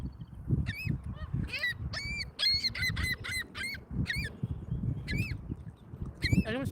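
Seagulls call repeatedly, a series of short, harsh, rising cries, some overlapping, sounding near and moderately loud over a low background rumble.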